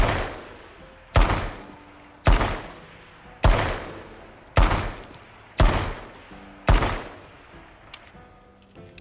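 Handgun fire in the video game H1Z1, eight loud single shots spaced about a second apart, each a sharp crack with a short decaying tail, heard alone.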